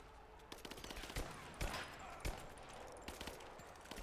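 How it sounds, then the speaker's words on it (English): Gunfire in Rise of the Tomb Raider, enemies shooting through a wall in the game: several sharp shots in an uneven burst, with a few louder cracks, set against a busy background of game noise. "You can't shoot me through the wall."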